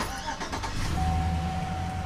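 A Chevy Silverado 5.3L truck engine with an electrical fault cranks briefly and catches, then settles into a loud steady idle close by, with a thin whine over the low rumble.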